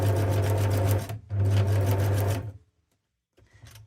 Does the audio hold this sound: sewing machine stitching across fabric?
yes